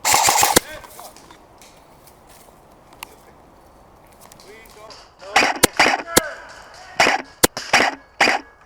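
Airsoft guns fire in bursts during a firefight at an outdoor airsoft field: sharp rapid snaps open the clip, a quieter stretch follows, then several loud clustered volleys close in near the end.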